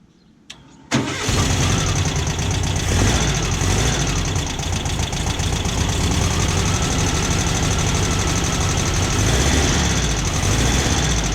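An old car fitted with a new electric fuel pump cranks briefly, then catches and settles into a loud, steady close idle that runs on without a break; no talking.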